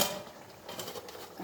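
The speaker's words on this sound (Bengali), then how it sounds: "এখন আবার ঢাকনা দিয়ে রাখবো।" A metal lid set back onto a cooking pot of beef curry in a home kitchen, giving a brief clatter of metal on metal followed by a few faint clinks, close by and quiet, with no talk.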